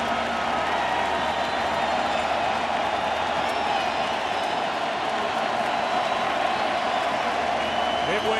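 A packed ballpark crowd at World Series Game 6 between the Giants and Royals cheers steadily, a dense, continuous roar with applause that holds at high level throughout without letting up.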